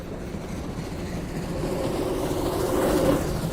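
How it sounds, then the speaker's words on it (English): A train starts to move, its rumble and rail clatter building steadily louder over a few seconds. "Let's start the train again."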